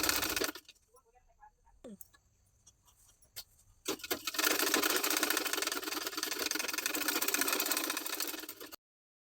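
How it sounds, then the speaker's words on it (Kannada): Sewing machine stitching a 2-inch band onto the lower edge of a blouse: quiet handling and rustling at first, then a steady, continuous motor whir with needle chatter running for several seconds before stopping abruptly. "ಇದನ್ನು ಈ ಬ್ಲೌಸ್ ಕೆಳಗಿನ ಸೈಡ್ ಇಟ್ಕೊಂಡು ಸ್ಟಿಚ್ ಮಾಡ್ಕೊಳ್ಳೋಣ."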